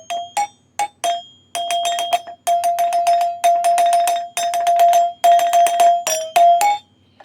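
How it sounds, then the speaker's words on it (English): Electromechanical pinball machine score chimes ring in rapid repeated strikes, bright bell-like tones clustering in bursts with short gaps, loud and close with no talk. "most chime games have 3 chimes"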